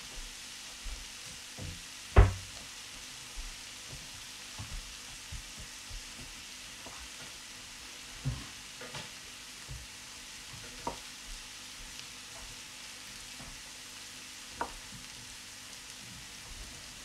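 Garlic fries for a spicy stir fry, a low steady crackling sizzle under scattered sharp clicks and taps from a utensil against the pan, fairly quiet and without speech.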